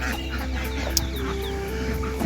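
Poultry cluck and chatter close by throughout at feeding time on a farm. The calls overlap against a steady background din.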